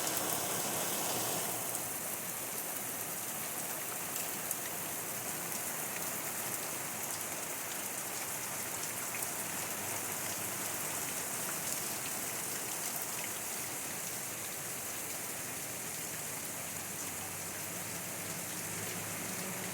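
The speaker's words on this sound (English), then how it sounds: "It's raining." Steady, dense rain falls outdoors near a corn field, a continuous even hiss of drops hitting surfaces that stays full and unbroken throughout, with no voices.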